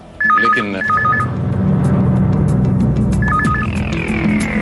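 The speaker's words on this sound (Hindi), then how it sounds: "किसका फोन है?" Electronic telephone ring in a Hindi TV crime drama, a warbling two-tone trill repeating in short bursts with a pause between, loud over a room tone, with a brief spoken word.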